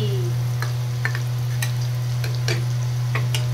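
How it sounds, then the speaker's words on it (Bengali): Okra frying with salt and turmeric in a pan gives a steady, close sizzle with occasional ticks and stirring scrapes, alone under a constant low hum. "এখানে ভেন্ডির তরকারির জন্য ভেন্ডি ভাজা চলছে নুন হলুদ দিয়ে"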